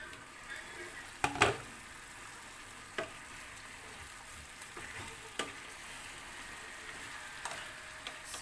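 Chicken curry left to simmer in a pan, a quiet, steady low sizzle with a few sharp knocks and clicks scattered through it, no talk over it.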